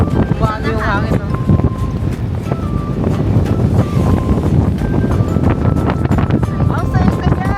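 Wind buffets the microphone on a moving river cruise boat on the Chao Phraya River in Bangkok, a steady rushing roar with water noise and occasional voices underneath.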